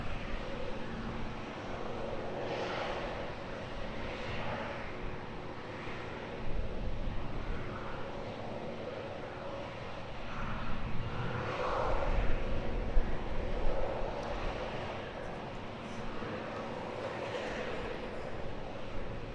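A Malta Air Boeing 737 MAX 8, in from Dublin, lands at Edinburgh Airport as a faint, distant, continuous jet rumble that swells slightly in the middle, mixed with wind noise.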